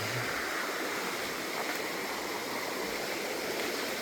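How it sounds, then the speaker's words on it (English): Two creeks meet and swirl together in a glacial till area, giving a steady rushing, burbling water noise close by with no voices. "So you got the two creeks coming together right here and it's spinning."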